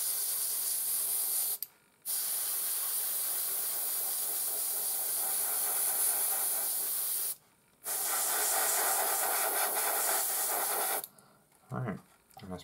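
A spray paint can laying down hazard stripes over taped edges, long steady loud hissing bursts separated by short pauses, close by, ending with a few brief sputtering sprays.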